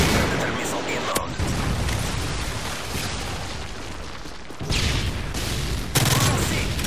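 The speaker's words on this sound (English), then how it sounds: "Friendly Predator missile inbound" Predator missile strikes in Call of Duty MW3 produce loud, dense rumbling explosions with sharp new blasts hitting around a second in, again after four seconds and near the end.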